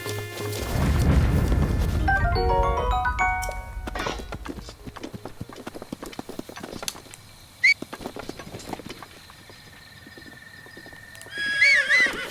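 A horse whinnies loudly while hooves clip-clop in the video game The Legend of Zelda: Breath of the Wild, with game-style musical tones and scattered clicks afterward.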